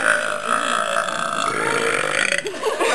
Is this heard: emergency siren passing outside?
no